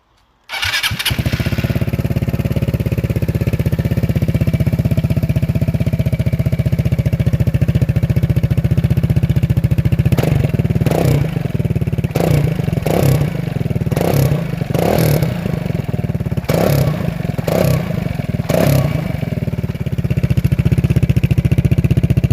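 Aprilia SR Max 300 scooter engine fitted with a Malossi carbon exhaust starts and idles steadily and loud up close, with a series of short throttle blips roughly every second in the latter half.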